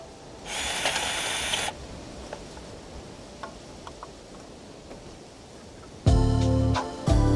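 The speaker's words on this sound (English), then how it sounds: "I need to drill out these holes to the right size as well" A power drill boring out holes for a bobstay fitting on a small boat's bow, heard as two separate whirring bursts, a short one early and a louder, lower one at the end, with small clicks and taps in between.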